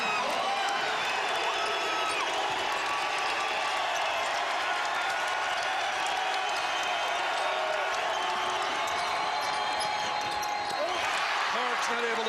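A packed arena crowd at a Colorado State men's basketball NIT game against South Dakota State keeps up a loud, continuous roar, with a commentator talking over it and occasional ball bounces.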